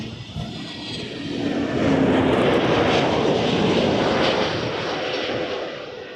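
An Air Canada jet airliner takes off from runway 05 at Toronto Pearson, its engine roar swelling to a loud sustained rush and holding strong, heard from a distance with no voices.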